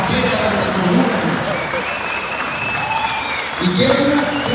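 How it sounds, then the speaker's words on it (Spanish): Steady audience applause for local artists at an altar exhibition opening in a state congress building, dense clapping under a loud hall with voices talking and murmuring over it. "Quiero que le den un aplauso bien fuerte a todos estos artistas"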